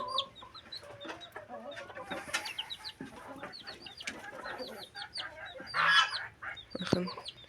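Chickens kept in a coop alongside geese cluck and squawk in short bursts near by, several birds overlapping, with occasional louder calls.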